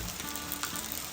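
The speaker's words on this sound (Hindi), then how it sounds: "भजिया बना रहे हैं अंदर" Bhajiya fritters frying in very hot oil, a dense crackling sizzle heard up close in a short, steady burst.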